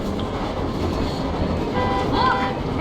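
A train rumbles past in the video game Metro Exodus, a steady heavy clatter of wheels on rails with a metallic squeal rising near the end, loud and close throughout.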